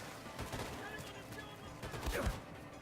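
Gunfire in the shooter Wolfenstein 2 crackles in dense bursts and rolling volleys, with a heavier boom near the end, amid continuous battle noise.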